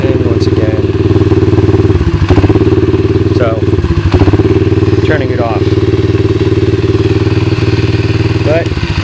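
A 2004 SDG pit bike with a Lifan engine runs close by, a loud, steady, throbbing idle that continues unbroken with faint clatter.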